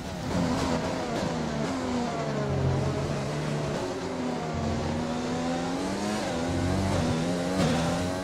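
A Formula 1 car in the F1 2020 racing game screams through rising and falling revs, its engine note shifting with gear changes in a continuous, fairly loud run, with no voices over it.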